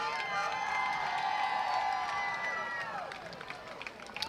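A parade crowd cheers for the Monson Dolphins swim team and Coach Liz at the Monson Summerfest Parade on the Fourth of July, a steady wash of shouts mixed with sustained horn-like tones that thins out toward the end.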